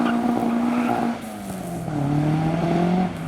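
A classic Ford Mark 1 Escort pulls away from a car show, its engine note climbing and dropping through gears as it drives off, loud and fairly close.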